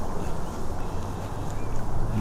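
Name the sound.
birds, likely ducks, calling by the Daugava river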